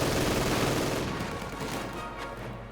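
Dense gunfire and explosions from a Company of Heroes 2 battle rumble on with no pause. The volleys are loud at first and ease slightly toward the end, and no one speaks.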